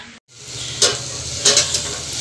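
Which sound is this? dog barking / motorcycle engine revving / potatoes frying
potatoes frying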